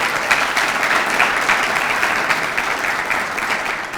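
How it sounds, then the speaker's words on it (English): Audience at a Tennessee Teacher of the Year banquet gives a round of applause, steady dense clapping from a crowd that holds loud and even throughout without fading. "Give her a round of applause also."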